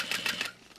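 A sewing machine bastes tote bag straps down within the seam allowance, giving a few quick, quiet stitching bursts in a short stop-start rhythm.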